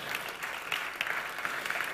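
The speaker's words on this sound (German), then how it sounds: "Danke für den Applaus." Audience applause at a talk, a moderately loud, continuous patter of many clapping hands with slight surges, heard alone without voices.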